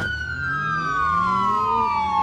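Police siren from a car chase in BeamNG.drive, a steady wailing tone that slowly glides downward over continuous engine and road rumble, loud and close with no talking.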